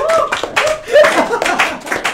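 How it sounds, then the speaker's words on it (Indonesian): A student audience at a campus event for an Islamic economics and business faculty breaks into loud, lively clapping, dense and steady throughout with a few brief peaks and faint voices mixed in. "Boleh kasih tepuk tangannya dulu gak sih?"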